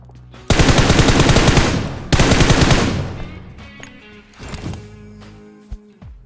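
Bursts of automatic machine gun fire in BGMI (PUBG Mobile): two long, loud, sustained volleys back to back, then a quieter tail of scattered distant shots and clatter.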